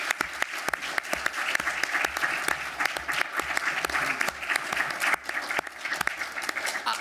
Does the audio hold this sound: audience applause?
yes